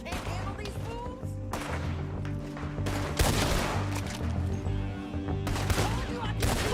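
Gunfire crackles in a Red Dead Redemption 2 shootout, repeated sharp shots and short volleys at irregular intervals, some louder bursts, over a low steady game rumble.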